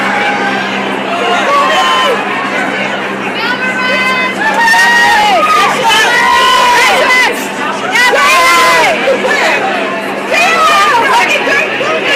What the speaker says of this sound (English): So this is what the red carpet sounds like.